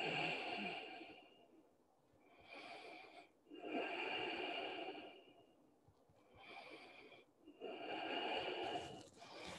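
Children rest on their backs during a yoga session and breathe slowly through the nose, making soft, quiet inhale-exhale cycles that rise and fall in a steady rhythm about every two to three seconds.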